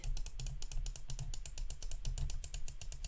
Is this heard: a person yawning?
no